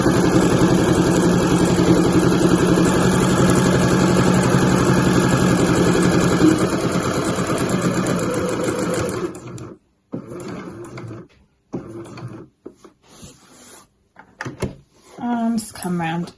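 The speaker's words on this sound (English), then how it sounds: "As I get to the corner, I'll slow down, leave the needle in the fabric, lift my presser foot and swivel round there" A home sewing machine stitches the exterior pocket of a weekender bag, running steadily and loudly before slowing into short bursts and pauses as the needle is left down and the fabric swivelled round a corner.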